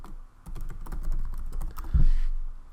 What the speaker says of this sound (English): at this point you type in your email address